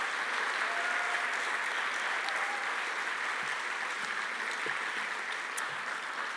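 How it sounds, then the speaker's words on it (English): A university event audience gives a speaker another round of applause, a sustained, even roar of many clapping hands filling the room for several seconds with no voices over it. "So give her another round of applause."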